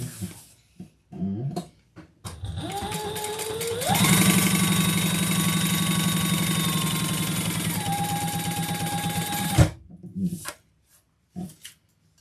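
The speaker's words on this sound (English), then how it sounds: "of our accent piece and fold that over, and then we'll top stitch" A sewing machine top stitches a handbag. After a few short stuttering bursts, its motor whirs loudly and steadily for about six seconds, shifting pitch as it speeds up and settles, then cuts off and is followed by a couple of brief clunks.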